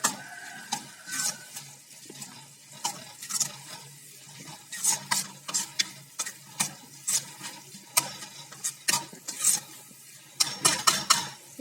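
Tomato thokku with spices being stirred in a frying pan, soft irregular scraping and clicking strokes of a spoon against the pan over a faint sizzle, quiet and close, no talking.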